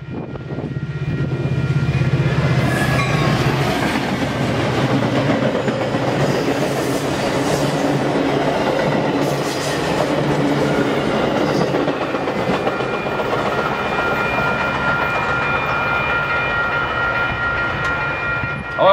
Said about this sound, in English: we watch a westbound Metra fly through the crossing